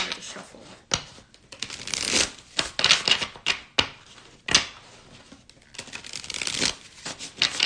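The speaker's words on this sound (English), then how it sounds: "These cards are cards, so they're kind of hard to shuffle." Tarot cards being shuffled by hand, close up: papery riffles and slaps in uneven bursts with soft pauses between.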